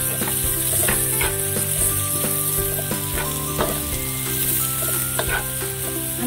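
Onions fry in a pan with a loud, dense, continuous sizzle and occasional stirring clatter, close up and steady with no voices, for a Filipino sinampalukang manok dish in the Nueva Ecija style.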